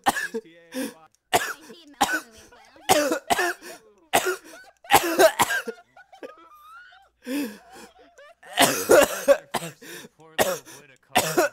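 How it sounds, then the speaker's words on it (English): Repeated bursts of coughing from a person on a game server, some harsh and clustered, mixed with laughter and excited talk from several voices throughout. "He's coughing again."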